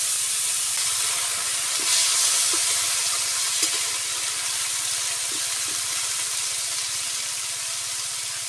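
Ilachi and potatoes dropped into hot mustard oil tempered with dried chillies and five-spice, a steady close sizzle and hiss with a few soft pops, no speech.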